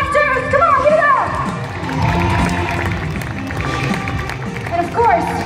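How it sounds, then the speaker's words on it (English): An audience at a car stunt show in Global Village cheers, shouts and claps in a lively, continuous wash of crowd noise, while a host talks loudly over the top through a PA. "Give yourselves a massive round of applause."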